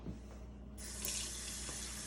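A kitchen tap runs steadily while making an apple pie, water flowing into a sink with a constant hiss that grows brighter and fuller partway through, close and unbroken.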